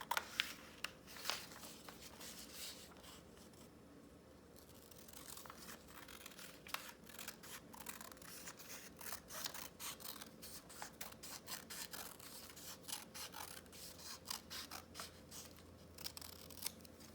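Quiet, steady snipping of scissors cutting black paper strips, a rapid series of small crisp cuts with soft rustling, close by and faint.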